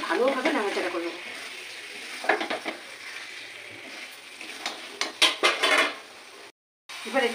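Fried chicken is stirred in a sizzling pan with its frying oil, making repeated clattering scrapes and knocks of a utensil against the pan over a steady hiss.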